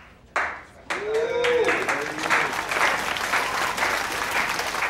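Clapping breaks out during a dance scene in Riverdale, a burst of applause that starts suddenly and carries on steadily, with a voice and other sounds mixed in early.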